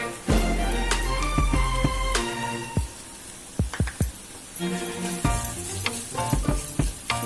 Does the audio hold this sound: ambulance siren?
no